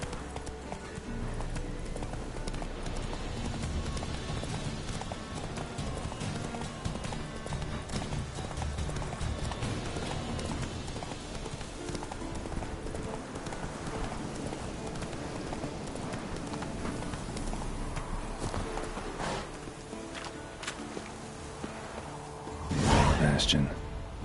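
Horse hooves clip-clopping in a steady galloping rhythm in the video game The Witcher 3, with voices talking over it and a louder burst near the end.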